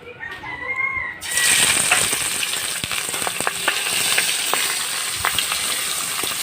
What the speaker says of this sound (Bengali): এখন মাথাগুলো ভেজে নেব।